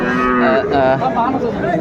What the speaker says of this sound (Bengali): এখানে মমিনুল ভাইকে গরুগুলো দেখছেন